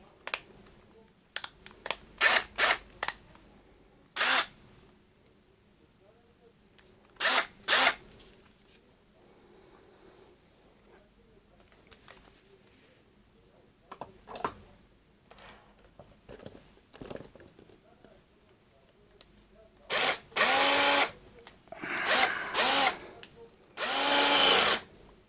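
A power drill set to first speed and its lowest torque drives screws while a 3D printer head carriage frame is opened, giving several short, sharp whirring bursts separated by quiet gaps, with a longer cluster of bursts near the end.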